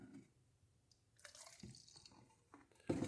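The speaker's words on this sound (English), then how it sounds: "I'm going to pour some evaporust into this little bottle here." Evapo-Rust liquid is poured into a small bottle, giving faint drips and a light trickle up close, ending in a louder splash of liquid.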